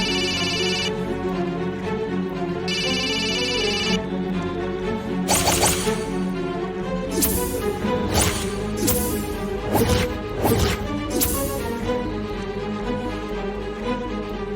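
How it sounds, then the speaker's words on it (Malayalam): A telephone rings in a television serial scene, two ring bursts near the start followed by sharp knocking or thudding hits, with no talk over it. "നിങ്ങളെന്താ ഫോൺ എടുക്കാത്തെ? കോൾ അറ്റൻഡ് ചെയ്യ്."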